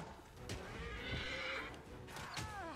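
A horse in the video game Pathfinder: Wrath of the Righteous whinnies loudly during a fight, one long neigh followed by a second shorter whinny, with faint hoof clops underneath.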